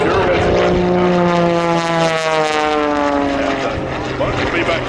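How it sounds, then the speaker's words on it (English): Aerobatic propeller biplane at an airshow, its engine droning loud and steady overhead with a wavering pitch as it climbs, while a commentator talks over it. "you can see him taking that airplane into the beautiful blue sky that we have here"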